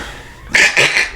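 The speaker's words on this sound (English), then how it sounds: "Blow your nose real quick." A person blows their nose in two short, loud, breathy bursts close by, with a brief pause between them.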